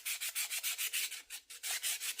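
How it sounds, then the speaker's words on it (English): Rapid, steady back-and-forth rasping of sandpaper stripping the old finish from a wooden butcher block, close and loud, in even strokes with no talk. "And now I'm sanding the finish off of it"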